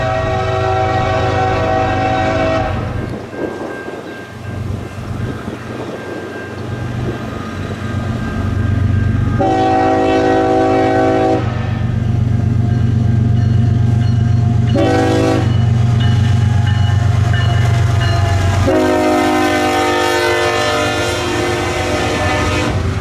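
A CSX heritage-unit locomotive leads a freight train past at close range, its horn blaring in several long, loud blasts over a steady rumble of engine and rolling cars.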